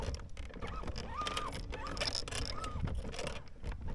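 A continuous mechanical whine and rumble of a noisy bass-fishing boat's trolling motor, with a faint rising-and-falling tone repeating over steady water noise.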